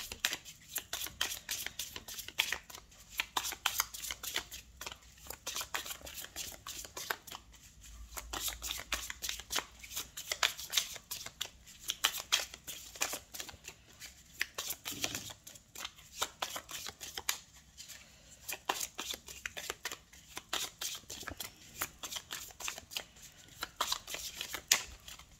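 Tarot cards shuffled close by in a continuous soft, papery riffle and flutter, quiet and steady for the whole stretch with only faint background murmur.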